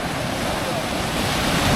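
Ocean surf at Hiriketiya Beach in Sri Lanka, a broad steady wash of breaking waves mixed with wind buffeting the microphone, slowly swelling louder toward the end.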